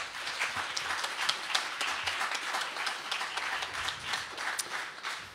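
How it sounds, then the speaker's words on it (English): Audience at a Riga Graduate School of Law graduation ceremony applauding in a steady, even round of clapping that fills the hall throughout. "So this is a time to celebrate with a round of applause."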